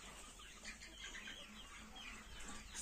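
Chickens and an old rooster moving about a coop, giving faint, scattered clucks and short calls over a steady low background hum, with no voices.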